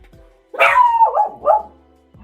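A single close dog bark, a drawn-out yelp that trails into two quick wavering yips, stands alone against quiet surroundings.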